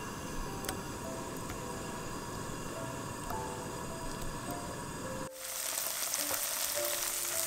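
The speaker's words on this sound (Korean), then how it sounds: "두부는 반모 정도 잘라서 팬에 기름 두르고" Tofu sizzles steadily in an oiled pan for several seconds, then the frying sound shifts abruptly to a brighter, hissier crackle as the pieces settle in the hot oil, close and moderate, with no voices.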